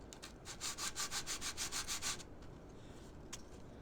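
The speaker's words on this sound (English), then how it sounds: "I can get in there pretty easy and get that sanded down real close to that joint" Wood furniture is sanded by hand with a scrap strip of wood near a joint, giving about a dozen quick, even back-and-forth scrubbing strokes that are close and moderately loud, then stop.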